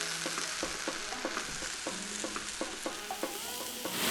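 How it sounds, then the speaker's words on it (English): Onions with a little salt sizzle and fry in oil on a grill plate, a steady close crackle with repeated stirring scrapes throughout. "add a little bit more oil, and then time to get in some onions. Add a little salt to help them caramelize and soften up."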